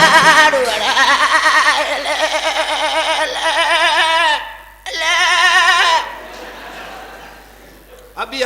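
A goat bleats loudly and repeatedly in wavering, song-like bursts, close and clear, with a brief gap before another long warbling bleat and a quieter tail.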